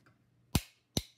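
Three sharp taps strike a 1-inch concho cutter from a horseshoe engraver's kit as it punches out a concho, two heavy knocks followed by a lighter quick one, close and distinct against a quiet room.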